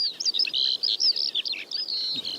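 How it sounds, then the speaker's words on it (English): Skylark song in the open countryside of Britain or Ireland, a continuous run of high, rapid, warbling chirps and trills, fairly faint and heard alone. "it sounds like that skylark is in the middle of my brain somewhere"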